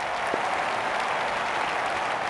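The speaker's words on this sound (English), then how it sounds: "The crowd applaud." A crowd applauds steadily in the cricket video game Don Bradman Cricket 14 during an India versus Zimbabwe match, a dense, even wash of clapping with no talk.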